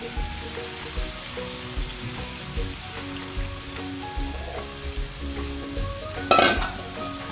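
Marinated chicken sizzles steadily in a pan with bay leaf and black pepper, a continuous close frying hiss with a brief louder burst of spattering near the end.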